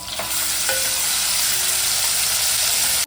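Masala with crushed garlic sautéing in a pan, a loud, continuous close-up sizzle and stirring hiss that runs unbroken before cutting off abruptly at the end, with no voices.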